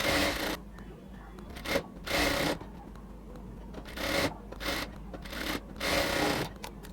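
A sewing machine runs in short bursts while stitching the shoulder seam of a baby frock, loud rattling runs separated by pauses, with no talk.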